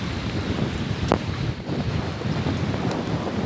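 Strong wind buffets a fishing boat anchored on rough water, a steady loud roar of wind noise against the microphone with the wash of choppy waves underneath.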